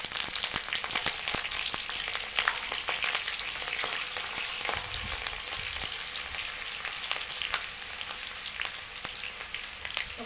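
Garam masala spices, cardamom, cloves, cinnamon and four chillies frying in a pan, a steady close crackling sizzle with scattered sharp pops and spits running throughout, no voices.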